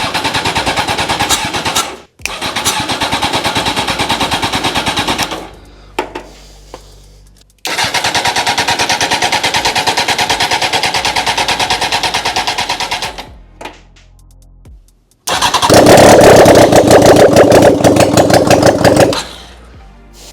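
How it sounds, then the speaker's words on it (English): A project car's carbureted engine cranks and catches in several loud bursts, stalling between attempts, then settles into a sustained rough idle before a final stretch of harder, louder running. "Just like that, our engine is back up and running for the time being."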